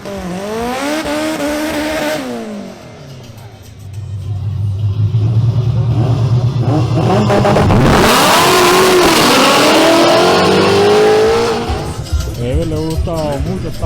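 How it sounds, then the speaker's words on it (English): Drag race between a Honda Civic and a supercharged Ford Mustang GT, loud engines revving and accelerating hard with a brief tire squeal, building to a roaring pass in the middle, while a commentator talks over it. "Now we have a duel between Andres Cabrera in his Honda Civic versus Alfonso Beltran's supercharged Ford Mustang GT."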